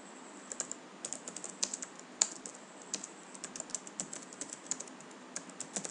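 Rapid, irregular keystrokes on a computer keyboard while typing into a netcat chat session, close and fairly quiet, running steadily for several seconds with no voices.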